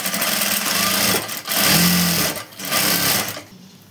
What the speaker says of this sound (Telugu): ఇప్పుడు స్ట్రైట్గా నీట్గా ఇలా ఒక కుట్టు వేసుకుందాం.